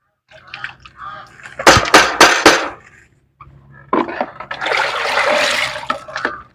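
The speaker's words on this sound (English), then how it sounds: "Let me reduce the water so I can access the last part." Water poured off a bowl of pap grains during washing, splashing in two loud bursts with a short pause between, the second a longer rushing pour.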